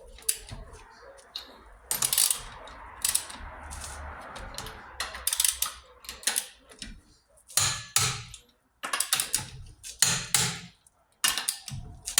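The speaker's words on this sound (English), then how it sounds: "we're gonna tighten that side and all these lug nuts" A ratchet tightens the lug nuts on a 2023 Mazda CX-50 after a tire rotation, giving short bursts of sharp metallic clicking and clunks separated by brief pauses.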